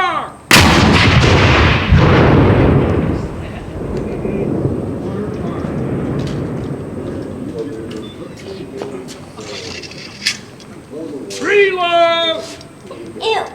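A Civil War reenactment cannon fires once with a loud, close boom at an outdoor event at French Azilum, and the rumble rolls on for seconds. Birds coo and people talk afterward.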